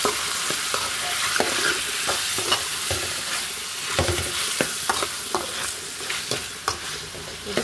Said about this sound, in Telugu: చూడండి, చికెన్ బాగా కుక్ అవుతుంది కదా.